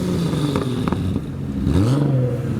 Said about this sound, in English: He's been revving for the cameras as well.